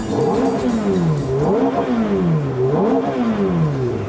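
A car engine pulls hard in first gear, loud and close, its revs rising and falling in repeated waves.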